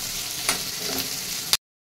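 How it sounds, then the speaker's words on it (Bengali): Tomatoes and onions frying together in a pan give a steady close sizzle with a couple of stirring clinks, cutting off sharply after about a second and a half. "টমেটো পেঁয়াজ সব একসাথেই ভাজা হয়ে গেছে, এরকমই ভাজতে হবে।"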